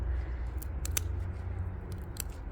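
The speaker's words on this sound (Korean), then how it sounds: "그러면 가위로 조금씩 손을 대보겠습니다. 아 가위도 안 먹혀요." Scissors snip at a succulent plant during repotting, several short sharp clicks and snaps up close, spaced irregularly over a low steady background.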